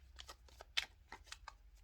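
A deck of tarot cards being shuffled up close, a quick series of soft riffling flicks at a brisk, uneven rhythm.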